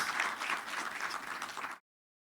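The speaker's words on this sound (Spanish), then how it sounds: "Un fuerte el aplauso." Audience applause at a military health and dental service anniversary concert, a dense steady clapping that fills the hall and then stops abruptly.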